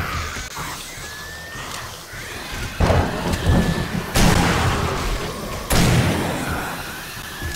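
Gunfire aimed at the player's own turret in the survival game 7 Days to Die: several heavy, booming blasts land at irregular intervals over a rumbling, noisy background, with no talking.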